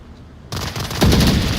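Gunfire rings out in Onward VR during a competitive match, a sudden loud burst after a quiet moment, followed by a second, heavier crack of shots close by.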